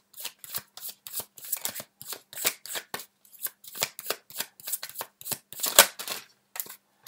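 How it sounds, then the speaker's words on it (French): Tarot cards are shuffled and drawn by hand, a close series of quick riffling bursts and crisp slaps in an uneven rhythm, with no voices. "Donc on va sortir quelques cartes supplémentaires"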